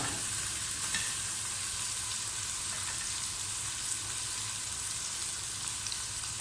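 Tomatoes fry in a hot pan for chana pulao, giving a dense, steady sizzle with faint crackles that carries evenly and close up throughout, with no voices.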